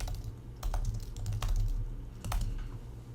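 Code being typed on a computer keyboard: quiet, close key clicks in short irregular bursts over a low background hum, with no talking.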